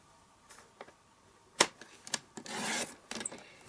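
Paper trimmer slicing through cardstock, a few short rasping cuts and clicks, one sharp snap and a longer sliding swipe near the end, close and fairly quiet with no voices.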